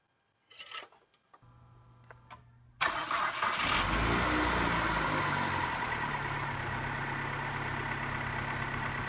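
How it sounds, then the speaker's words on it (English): A few faint clicks, then a Dodge Neon engine cranks and fires up loudly, settling into a steady, close idle. "Let's go ahead and start it up."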